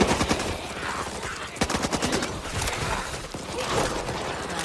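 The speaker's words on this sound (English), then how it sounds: "I got a bullet for you!" Gunfire in a post-apocalyptic video game, rapid bursts of automatic fire with sharp cracks and short pauses, fairly close and moderately loud, with no one speaking.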